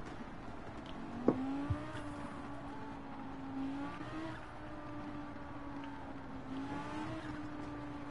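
A Dodge Viper engine in Gran Turismo 7 revs and drones with shifting pitch, rising and falling through several gear changes, with a brief skid or tire squeal near the start, steady and moderately loud.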